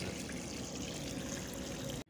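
Water runs from a newly repaired 1 HP water pump, a dense steady gush and trickle that fills the moment, then cuts off abruptly near the end.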